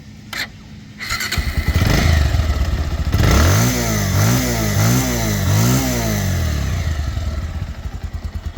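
A 2023 Bajaj Pulsar 150cc ABS double-disc motorcycle starts after a few clicks, then its engine revs up and down in four or five rhythmic surges before settling to a steady idle, loud and close.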